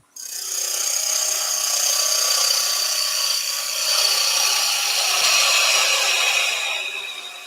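Green wood spins on a lathe as a beading and parting tool cuts the underside of an egg cup blank, giving a steady, bright, hissing scrape that holds for several seconds with slight swells and no talk.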